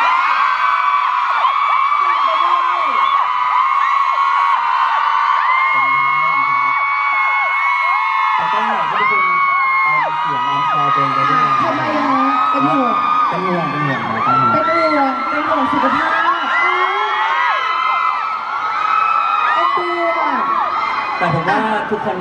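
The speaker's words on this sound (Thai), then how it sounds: "ขอเสียงกรี๊ดดังๆอีกทีได้ไหมคะ" A large crowd of fans screaming and cheering loudly and continuously indoors at a fair in Hall 5, Impact Muangthong Thani, a dense roar of high-pitched shrieks with voices shouting throughout.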